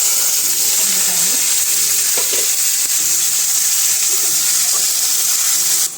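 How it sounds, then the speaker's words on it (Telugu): Ivy gourd (tindora) frying in a pan of hot oil with urad dal, a loud, steady, close sizzle that holds for several seconds while the water cooks off, with faint clinks from stirring. "ఫ్రై అవుతా ఉంది. వాటర్ అంతా వెళ్ళిపోవాలి."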